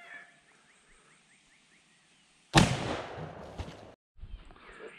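A single loud, close gunshot from a .50-110 lever-action rifle fired at a Level IV armor plate, a sharp blast with a ringing tail about midway, followed by quiet outdoor ambience.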